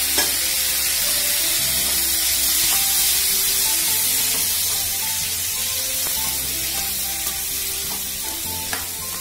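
Sliced tomatoes sautéing in a pan for Tamil-style tomato chutney, giving a steady close sizzle and hiss with occasional light stirring scrapes throughout, no voices.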